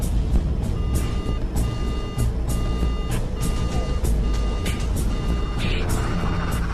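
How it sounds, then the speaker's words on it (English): A cockpit engine fire alarm on an Air France airliner, sounding as a loud repeating electronic beep in even pulses over a constant roar of engine and cabin noise. "at 4:43 and 22 seconds, the engine fire alarm sounds"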